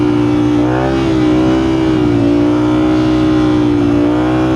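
Suzuki GSX-R 1000 motorcycle engine held at a high, steady rev during a wheelie, loud and close, pitch wavering slightly up and down throughout.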